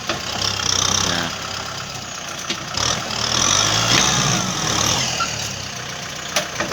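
A Kubota M6 tractor engine runs steadily at close range while digging out eucalyptus roots to expand a corn field, a continuous mid-pitched drone that swells and eases with load.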